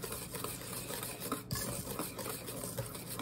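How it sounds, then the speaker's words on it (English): Sugar cream pie filling with cream being stirred in a pot, soft continuous scraping and swishing with faint sizzle, quiet and close with no voices. "And it's stirring up real nice. Let's just give a little break here. Give it a good stir."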